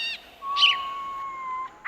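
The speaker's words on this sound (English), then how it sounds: "Marsh warbler." Marsh warbler song heard as a long, thin sustained whistle with short bright chirping bursts at the start, middle and end, clear and close against a quiet background.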